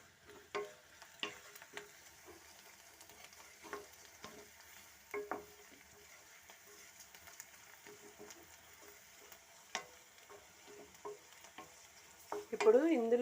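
Curry leaves and a little turmeric being stirred in a pan while cooking chikkudukaya (broad bean) fry, with a soft, steady sizzle and scattered spoon scrapes and taps, then a louder burst of sizzling near the end.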